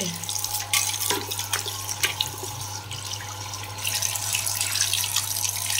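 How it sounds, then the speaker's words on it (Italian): A bathroom tap runs strongly while sanitary fixtures are rinsed, a loud, steady rush of water with splashing, and no talking. "faccio scorrere tutta l'acqua"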